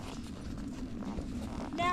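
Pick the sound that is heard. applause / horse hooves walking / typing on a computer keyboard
horse hooves walking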